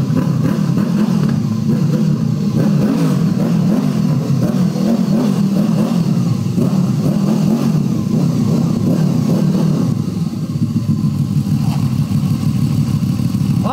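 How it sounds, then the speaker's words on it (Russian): A Honda VFR800F motorcycle's engine runs loud and close throughout, a continuous rumbling drone with rising and falling revs and no talking. "Ну что, заведу и попробую прокатиться"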